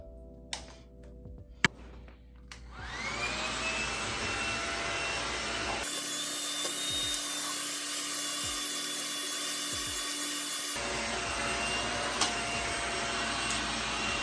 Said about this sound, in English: It's the blow dryer, it's not my hair, it's the blow dryer.